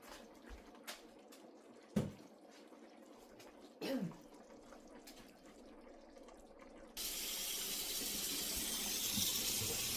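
A few scattered clunks and knocks are followed by a kitchen tap running steadily as cooked pasta is rinsed, the water a continuous close hiss to the end.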